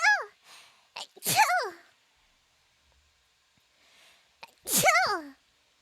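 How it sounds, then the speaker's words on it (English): Two sharp sneezes burst out, each with a rising intake and explosive release, separated by a few seconds of near silence, close and loud. "Achoo!"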